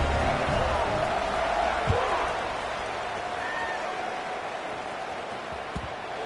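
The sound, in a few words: football stadium crowd cheering before kickoff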